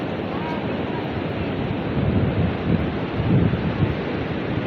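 Rough sea churns around a small fishing boat near a provincial shore, with a steady wash of surging waves and buffeting wind on the microphone that swell louder in the middle of the clip.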